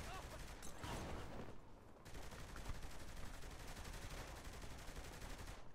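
Continuous, dense automatic gunfire in Saints Row: The Third, sustained rapid bursts of shots filling the whole stretch with a brief dip partway through, quite loud and close.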